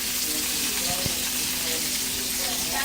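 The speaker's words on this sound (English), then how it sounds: "right now the vegetables are still frozen, and I'm just cooking them down." Frozen vegetables for Louisiana jambalaya sizzle in a hot pan, giving a steady bright hiss with a faint knock of a utensil partway through and no talk.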